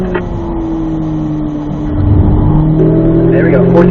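Car accelerating hard on a race track, its engine droning steadily and climbing in pitch as it shifts up into fourth gear, loud and close with an instructor talking over it.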